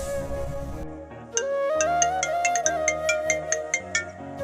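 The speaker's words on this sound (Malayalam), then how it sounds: "ജയകൃഷ്ണങ്കിളാണ് വിളിക്കുന്നത്" A mobile phone rings with an incoming call, a melodic ringtone with bright, evenly spaced chiming notes that rise and repeat loudly, preceded by a brief stretch of other sound before it begins.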